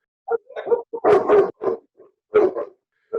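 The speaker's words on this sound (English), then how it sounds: "I could hear that dog" A dog barks several times nearby in short bursts, a few quick yaps followed by louder, fuller barks, with brief gaps between them.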